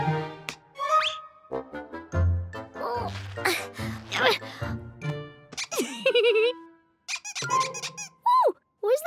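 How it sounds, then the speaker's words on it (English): Rubber duck squeaking in a children's cartoon about colours, with several sharp, bright squeaks and chirpy tones scattered among music and cartoon effects, close and clear. "Then who made that squeaking noise?"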